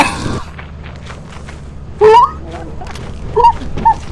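The dog monster in Lethal Company gives off a few pitched, yelping whines and growls over faint footsteps and shuffling, coming in short bursts a few seconds apart at moderate volume.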